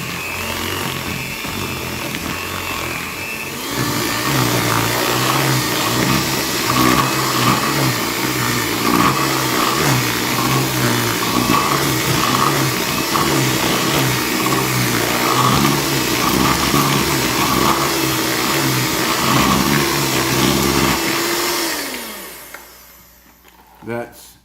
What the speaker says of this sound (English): today I'm going to use my hand mixer